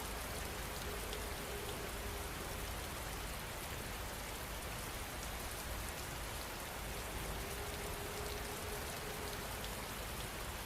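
Steady rain pours down continuously, a dense even hiss of drops striking surfaces and windows, with no voices and no breaks across the whole stretch.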